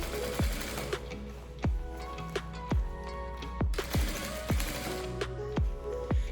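Sewing machine stitching a bag with backstitching at the start, its needle chattering steadily under repeated sharp clicks, close and fairly loud with no talk.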